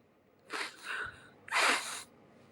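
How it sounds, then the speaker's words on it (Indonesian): A sleeping person snores in two raspy, breathy bursts about a second apart, close and fairly quiet, with no talking. "Kirain nangis ternyata ngorok."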